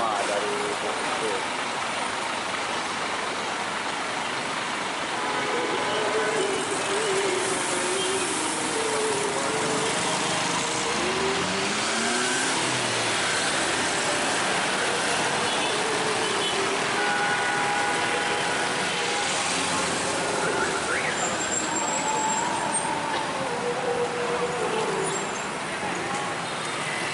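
A Bintang Utara Putra coach pulls away at a busy Dumai depot, its air-suspension engine droning steadily amid loud surrounding traffic and a continuous roar of activity, with voices mingling in the background throughout.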